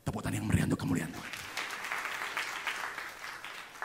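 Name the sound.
applause from church congregation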